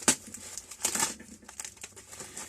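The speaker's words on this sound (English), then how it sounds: "cut the label off." A label is cut off the packaging of a new tool, giving close crinkling and rustling of plastic and paper with a few sharper snips and tearing bursts, no voices.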